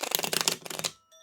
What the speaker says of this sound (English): Feel like we'll give it another shuffle